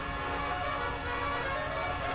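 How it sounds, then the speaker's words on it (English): Steady, dense wash of car horns honking together in the GTA V Online video game, a sustained droning blare of overlapping tones that keeps up without pause or talking. "Everybody's honking their horns!"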